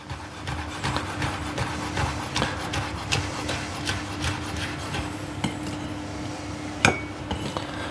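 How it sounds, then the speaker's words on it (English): Knife slicing a chili pepper very thin on a cutting board, a steady series of crisp taps and cuts, close and fairly quiet, with no talking. "So we're just going to slice this up very thin."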